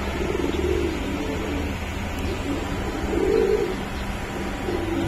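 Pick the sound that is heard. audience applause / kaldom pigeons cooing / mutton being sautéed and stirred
kaldom pigeons cooing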